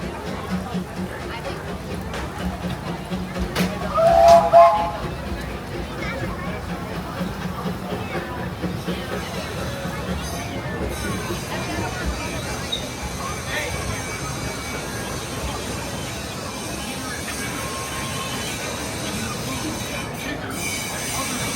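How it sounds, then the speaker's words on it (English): A train rumbles past at a distance at Disneyland, its wheels squealing briefly, while people chat nearby over the outdoor noise. "Oh, train."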